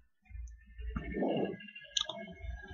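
A single sharp mouse click selects AutoSum in Microsoft Excel, soft and brief against a quiet background murmur.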